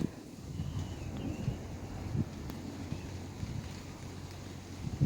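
Strong wind blows along the bank of the Chao Phraya river, a steady low roar with buffeting gusts against the microphone and faint water and boat rumble underneath, and no talking.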